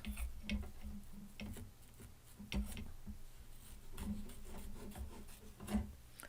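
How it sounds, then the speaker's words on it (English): Scissors trim excess fabric along a stitch line, giving quiet repeated snips and rubbing scrapes in an irregular rhythm, close and faint. "where we're supposed to trim the excess fabric is right here up along this stitch line. So I'll go ahead and trim that off."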